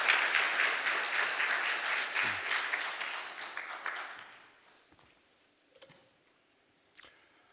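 A church congregation applauds to welcome a graduate of a discipleship training program, with dense, steady clapping for about four seconds that thins out and stops, followed by a few isolated taps and clicks in the quiet.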